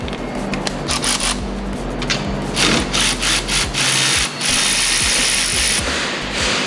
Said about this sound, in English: We're just going to take this nut off and we're going to start loosening this line from the front.